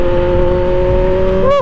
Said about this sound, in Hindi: बाकी गाइस एक फ्लाई बाय मारेंगे थोड़ा आगे